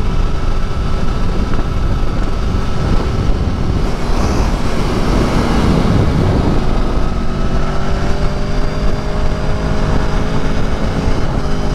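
A 2018 Aprilia Tuono V4 motorcycle exhaust pipe while riding, a dense steady engine roar mixed with heavy wind rush, loud and continuous throughout with no clear gear changes and no talking.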